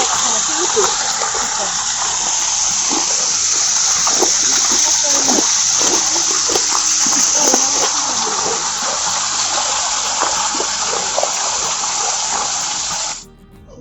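Water gushes steadily into a small bathing pool at a Japanese temple in Kyoto, a loud, continuous, close rushing splash that lasts about thirteen seconds before cutting off abruptly.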